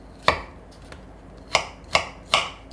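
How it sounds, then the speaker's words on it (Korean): A knife cuts peeled kiwi into blender-sized pieces on a cutting board, giving four crisp, separate chops with a slight pause after the first, close and clear with no talking. "믹서기에 갈릴 사이즈로 썰어주세요."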